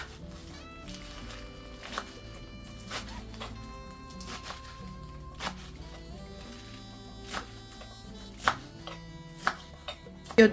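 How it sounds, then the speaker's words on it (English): A knife slices spinach for efo riro, making a steady series of crisp cuts against a board, quiet overall with a few louder chops near the end. "So I am going to slice up my spinach."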